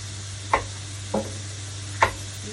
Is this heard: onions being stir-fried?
yes